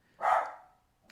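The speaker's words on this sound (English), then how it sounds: "you probably are hearing my dog in the other room barking" Single short dog bark from another room, a brief muffled yelp rising and fading within a second in an otherwise quiet space.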